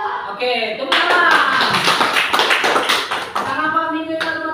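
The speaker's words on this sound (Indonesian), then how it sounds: "Oke, tepuk tangan." Children in a classroom clap their hands together in a dense, lively burst of rhythmic clapping, mixed with young voices chanting along, loud and close throughout.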